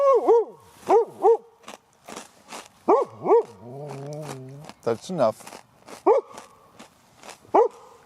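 A dog named Dashy barks in repeated sharp, close bursts with a few lower whining howls between, while someone talks to it over the barking.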